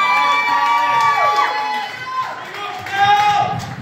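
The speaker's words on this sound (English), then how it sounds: "give him a round of applause" Audience at a live comedy show in Leeds cheering and whooping loudly, with crowd noise and shouts swelling and fading alongside tonal music or voices rather than distinct clapping.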